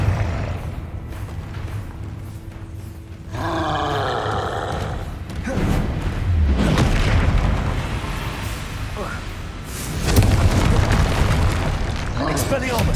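Confringo fire spells burst again and again in Hogwarts Legacy combat, giving booming, rumbling blasts that swell at intervals beneath repeated shouted spell names.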